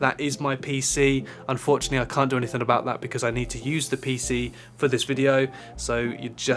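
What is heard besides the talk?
No everyday noises stand out.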